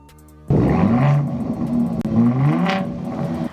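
A truck with dual exhaust starts up and revs, a loud close engine roar rising and falling in two throttle blips over about three seconds, with no talking.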